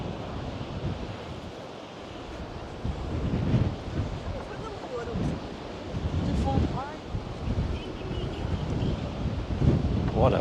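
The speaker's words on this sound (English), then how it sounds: "What a windy day today." Strong wind buffets the microphone while ocean surf rolls and crashes along the Twelve Apostles coast on the Great Ocean Road, a loud, gusty roar with a steady wash of waves.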